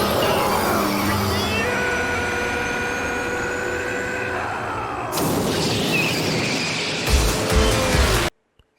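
Futuristic race cars from the 2009 anime film Redline roar past with high whining engine tones and tire screech, ending in a sharp burst of noise before cutting to silence; loud and continuous, with no talk.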